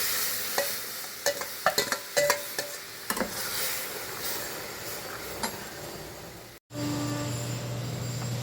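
Curd mixture for kadhi is stirred in a pot, a spoon scraping and knocking the sides in a quick irregular series of clicks over a steady sizzle, close by. After a brief cut, a louder continuous simmering hiss follows, with no voices.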